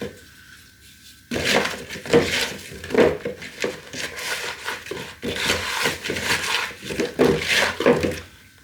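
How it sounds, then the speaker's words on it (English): Sweet potato wedges being tossed with salt and seasoning by hand in a bowl, giving a steady run of soft, close rustling and scraping squelches in irregular bursts, with no talking. "give it a good mix with your hands so these sweet potato wedges get a really good coating"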